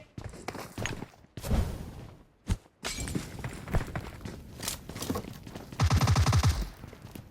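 PUBG Mobile gunfire on the Erangel map: scattered sharp shots and bursts, ending in a loud rapid automatic volley near the end, with no speech.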